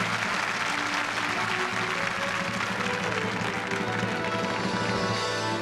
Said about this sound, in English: Please welcome Gary Lavini. Big applause.